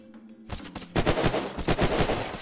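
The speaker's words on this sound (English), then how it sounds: "I body shot him and headshot him twice" Gunfire in the PvP video game Unturned: a rapid burst of loud gunshots in quick succession, several sharp cracks close together after a brief quiet lead-in, with no talk.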